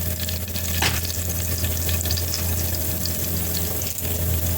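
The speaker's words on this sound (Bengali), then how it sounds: "একটু ফোড়ন দিয়ে দেবো, শুকনো লঙ্কা" Dried red chillies sizzling in hot oil for tempering, a loud, steady crackling hiss close by with a low hum beneath and an occasional sharper pop.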